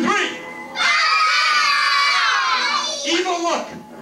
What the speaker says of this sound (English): The karate scream.